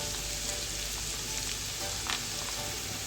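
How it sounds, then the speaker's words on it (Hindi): Chopped onion added to golden roasted garlic in hot oil for garlic rice, giving a steady, dense sizzle and frying hiss throughout, close and continuous, with no talking. "इसमें मैं डालूंगी चॉप की हुई प्याज"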